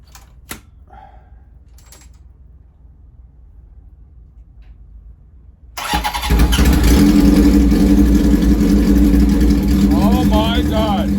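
A Honda CB750 motorcycle starts with the choke on after a quiet stretch of small handling clicks, then its engine catches abruptly and settles into a loud, steady rumbling idle close by.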